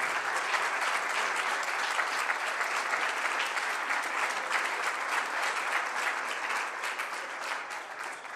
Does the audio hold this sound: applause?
yes